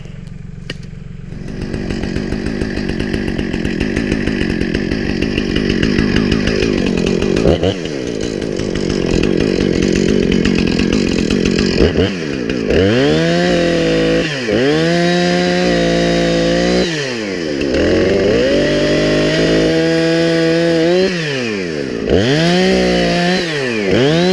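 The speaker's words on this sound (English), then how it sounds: "Let me go grab a chainsaw. I'm gonna cut this bad boy in half." A chainsaw roars loudly and steadily, its engine rising and falling in repeated strokes as it bites through wood during woodlot thinning.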